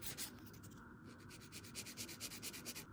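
A nail buffer rubs quickly back and forth across a fingernail, producing a soft rhythmic series of scratchy strokes, close and fairly quiet.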